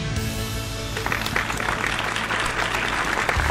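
A group of preschool pupils claps for themselves in a classroom, a busy patter of small hands over a few seconds, with background tones fading early on.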